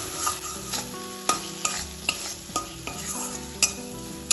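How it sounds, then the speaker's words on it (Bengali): Poppy seed paste with eggs being stirred and fried in a pan, a steady close sizzle broken by sharp scrapes and clinks of a utensil against the pan every second or so. "পোস্তটাও ভালোভাবে মাখার সাথে একটু কষিয়ে নেব যাতে পোস্তর কাঁচা ভাবটা না থাকে"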